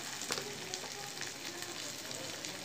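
Okra frying in a pan with turmeric and salt, a soft continuous sizzle with faint crackles, quiet and close, with no voices.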